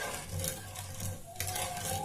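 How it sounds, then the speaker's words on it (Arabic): A spoon stirs sugar and water syrup in a pot for sherbet, gentle scraping and swishing strokes in a slow rhythm, close and fairly quiet, with no talking. "اهو تقليبه بسيطه كده على الهادي"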